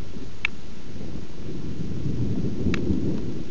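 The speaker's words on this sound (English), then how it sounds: "Here comes a little rain!" Steady rain hisses and patters outdoors, a dense, even wash of noise with a couple of faint high ticks.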